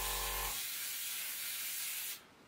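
An airbrush sprays through during cleaning, giving a loud, steady broadband hiss for about two seconds after a short hum, then cutting off abruptly.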